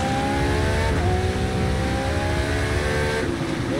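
Racing car in Forza Motorsport 2023, in rain, drifting: a loud, steady engine roar with shifting revving tones and faint tire squeal, continuous and close, with no talking.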